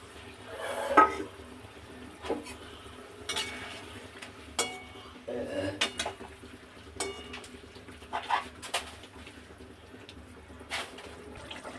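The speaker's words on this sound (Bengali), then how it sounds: "এবার ভেজে রাখা মাছগুলো জলের মধ্যে আমি দিয়ে" Fried fish slipped into simmering spiced water in a cooking pot, with quiet bubbling and a few clattering knocks of utensils against the pot, close and fairly soft.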